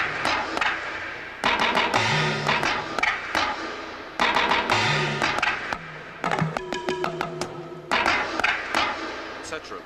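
An electronic drum kit plays a busy percussion pattern of talking drum with pitch-bending tones, timbale and other drums sounding together in rhythmic bursts of sharp hits, close and loud.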